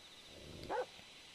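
A single short dog bark or yip from the video game Yomawari 3 sounds faintly over a quiet game background.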